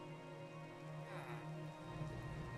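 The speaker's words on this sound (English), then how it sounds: "there's the rain, told ya" Steady rain falls in the video game Minecraft, a soft, even hiss that runs unbroken from start to finish with no voices over it.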